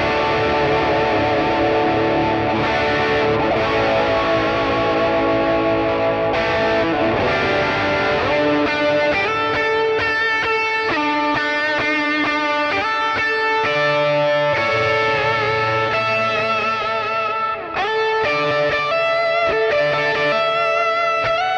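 Electric guitar through a Nux MG300 multi-effects unit, set to a worship-style ambient preset with overdrive and heavy reverb, playing sustained chords and melodic lines with a dense, washed-out tail throughout, loud and steady with no voices.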